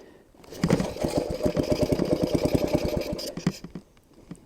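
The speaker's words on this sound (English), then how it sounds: "give it a tad bit of throttle, see if it starts now" A Briggs 5HP engine on a homemade chopper catches with a little throttle and runs in a fast, steady put-put for about three seconds before sputtering down, loud and close with no talk.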